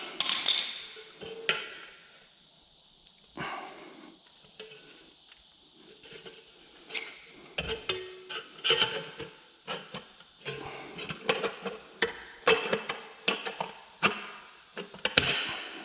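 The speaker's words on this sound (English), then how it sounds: "Oh, I gotta get better tin snips than this." Tin snips chop through thin sheet metal while notching a piece for a fireplace hearth frame, giving a run of sharp, irregular metallic crunches and snaps close by that grow denser toward the end, with no talking.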